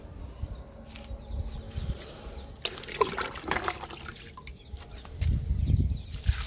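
Liquid fertilizer poured into tubs of okra plants, a soft, close trickle and splash of liquid with a fuller gush of pouring near the end.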